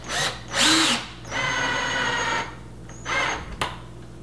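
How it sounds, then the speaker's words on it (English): A power drill drives screws into door hinges while a dog gate is built, whining in short bursts with pauses between and a longer steady run in the middle, close and loud. "I'm gonna start getting the screws in."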